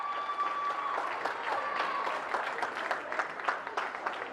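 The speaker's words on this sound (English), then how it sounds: "The crowd is loud here at Whitman Hanson" A home crowd at Whitman Hanson cheers and claps loudly during a girls varsity basketball game, with steady applause and whoops filling the gym.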